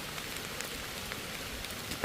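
Steady rain patters down outdoors during mushroom foraging on a hillside, a dense, even hiss with scattered louder drops landing nearby and no voices.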